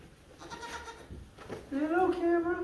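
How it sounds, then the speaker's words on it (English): A small young farm goat gives a wavering bleat close by near the end, after a stretch of soft talking and farmyard shuffling. "I'm a token little cute goat"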